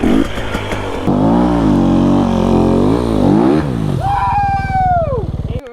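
A brand-new KTM 250 two-stroke dirt bike revs loudly and close, its engine note climbing and falling in repeated throttle blips, then sweeping up sharply before dropping back.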